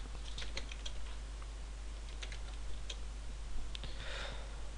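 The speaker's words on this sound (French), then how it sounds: "Et j'écris mon texte." Quick clicking keystrokes on a computer keyboard as text is typed into a logo design in Photoshop. The taps come in short irregular bursts over a faint steady hum.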